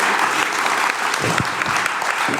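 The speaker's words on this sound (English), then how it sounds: "please, a warm applause for Justine." Audience applause at a photography award presentation, steady clapping from a seated crowd filling the whole stretch at moderate loudness, with no voices over it.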